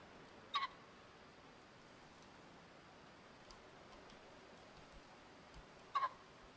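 Two sharp pheasant calls sound in the Way of the Hunter video game, one near the start and one near the end, faint and distant over a quiet outdoor ambience with occasional soft ticks.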